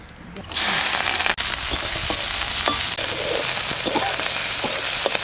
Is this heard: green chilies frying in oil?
yes